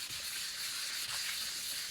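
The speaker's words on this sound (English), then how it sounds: "I'm now on 800 grit. And you feel as if you're sanding with normal, just plain paper" Fine 800 grit sandpaper rubs over carbon fibre in a soft, continuous scratchy hiss, faint and close, with slight rhythmic strokes.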